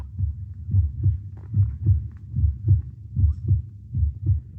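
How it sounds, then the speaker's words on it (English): Heartbeat sound effect in an old-time radio crime drama, a steady lub-dub pounding of paired low thumps repeating at a brisk, even rhythm, close and alone without talk. "He was brought to the gibbet, his heart pounding."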